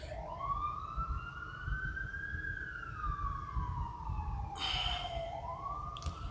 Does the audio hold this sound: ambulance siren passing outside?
yes